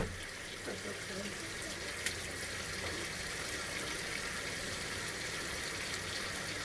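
A kitchen tap runs steadily, adding water to a pot for a seafood boil, with a constant close rush of flow and a small clink partway through; no talk.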